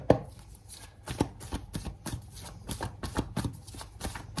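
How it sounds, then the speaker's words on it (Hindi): Tarot cards being shuffled and handled close by, a steady run of soft papery riffles and taps repeating through the clip, with no talking. "चलो अब यहाँ से तो ये कार्ड्स रख देते हैं, बहुत हो गया, इनसे देख लेते हैं।"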